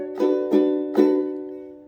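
Ukulele strummed in a short pattern: three bright strums a fraction of a second apart, the last one ringing out and fading across the final second.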